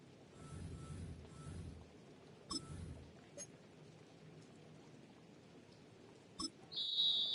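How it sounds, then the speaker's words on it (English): A referee's whistle sounds during a football game, a brief high blast near the end following quieter crowd murmur and a few scattered knocks. "Now, whistles come in."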